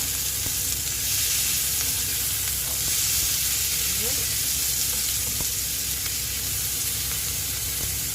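Onion and tomato sauté in hot oil for Filipino-style bitter melon with eggs, a loud, continuous close sizzle with occasional stirring scrapes and light pops throughout.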